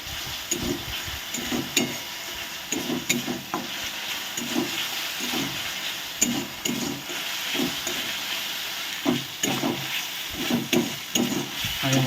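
A ginger, garlic, cumin and green chilli paste fries and sizzles in a pan for an egg and potato curry, with a steady hiss broken by repeated scraping stirs at a close, even level and no talk.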